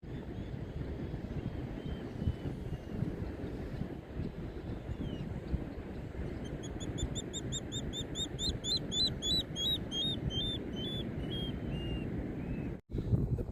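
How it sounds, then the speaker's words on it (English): Birds call repeatedly at an estuary peninsula in the wet morning at St Lucia Estuary in February, a run of clear chirps and whistles rising over steady wind and water rumble for several seconds. "The bird life is just incredible here on the peninsula this morning"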